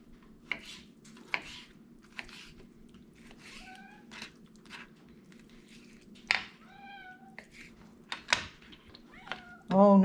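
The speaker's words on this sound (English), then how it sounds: "Oh, no fish for you, kitty cat." A cat meows repeatedly in a kitchen beside an antique wood cookstove while cod is chopped, its cries rising and falling between soft knife taps on a board, with a person speaking briefly.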